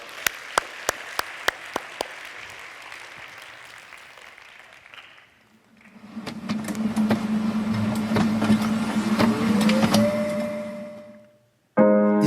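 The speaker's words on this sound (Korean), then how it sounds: "박수 한번 넣었어요." Applause in a church worship hall: a few sharp, scattered claps at first, then a dense, steady wash of clapping over a low rumble that swells and cuts off abruptly.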